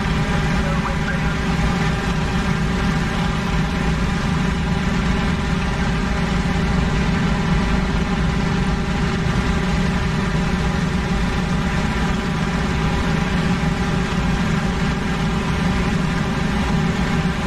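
A WWII fighter plane engine drones steadily in a video game, a continuous loud low hum with even harmonics and no pauses throughout.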